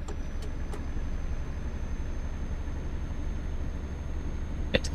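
Steady engine drone from a nine-speed truck in Euro Truck Simulator 2 as it drives along, a low continuous rumble with a couple of faint clicks and no talking.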